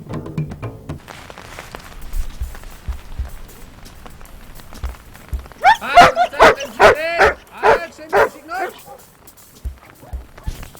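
Schutzhund dogs offered for sale bark loudly in a rapid burst of about a dozen close barks midway through, after a quieter stretch of low background noise and faint voices.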